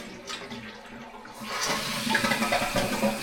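A freshly reset toilet with new supply line, wax ring and bolts is flushed, a quiet lead-in giving way to a rushing swirl of water, close and steady.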